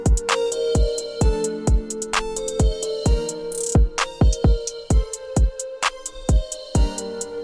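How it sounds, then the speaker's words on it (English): An FL Studio beat plays with its reverb automated, starting dry, swelling up and then cutting out abruptly; punchy low kicks and bright hits form a clear pulse with a brief washy swell midway. "I'm gonna automate it so the reverb doesn't exist, then it goes up, and then it cuts out immediately"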